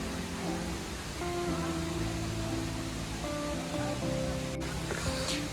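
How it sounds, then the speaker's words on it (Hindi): A constant roaring rush of the Neer waterfall near Rishikesh fills the whole stretch, loud and unbroken, with faint tonal sounds buried underneath. "ये दूसरे नंबर का झरना है।"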